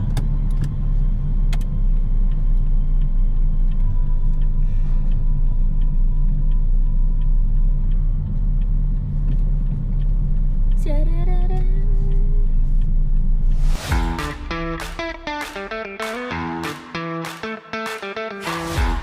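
A car drives along the road with a steady low engine rumble and road noise heard from inside the cabin, then cuts to a sharper, rhythmic series of clicks and knocks near the end.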